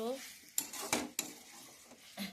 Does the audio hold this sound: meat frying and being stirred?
yes